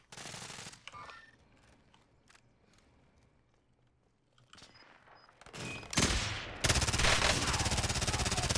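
Gunfire in the battle royale shooter Call of Duty Warzone, quiet at first with a few scattered distant shots and footsteps, then loud rapid automatic bursts close by in the final seconds.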